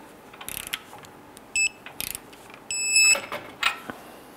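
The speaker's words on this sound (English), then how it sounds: "Torque down your tie rod and nut to 45 foot-pounds. I'm going to use a 21 millimeter socket." A ratchet with a 21 mm socket tightens a tie rod nut on the front suspension of a 2002-2008 Dodge Ram 1500, giving short bursts of clicking pawl ticks with brief metallic clinks, close and fairly loud, no talking.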